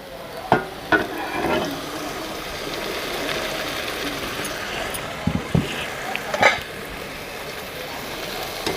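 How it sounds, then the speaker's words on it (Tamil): Goat blood and onions fry together in a pan with a soft, steady sizzle, while a spatula clatters and scrapes through the mix in several sharp knocks, heard up close over low background hum. "இப்போ இதை நல்லா கிளறி விடுவோம்."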